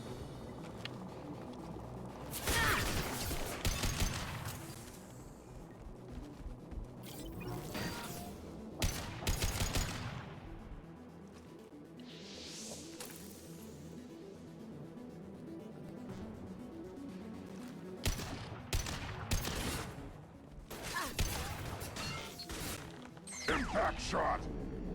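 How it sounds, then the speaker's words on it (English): Machine gun fire in Mass Effect 2, long loud bursts of rapid automatic shots in several clusters across the stretch, with mechanical clanks and combat noise between volleys and talking heard at times. "Oh, I got a machine gun."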